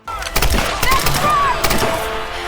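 Gunfire in the Tomb Raider video game, a rifle with an attached rocket launcher amid enemies firing what sound like cannonballs, dense overlapping loud shots and blasts crackling through a burning palace, with faint voices mixed in.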